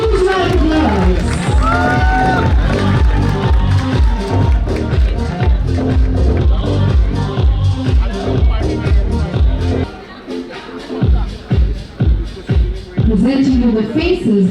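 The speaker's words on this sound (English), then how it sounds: "let's give them all a huge round of applause" Audience cheering and applause for the fashion faculty at a university fashion show, a loud, steady crowd roar with whoops and clapping under amplified music and voices, dipping briefly before swelling again.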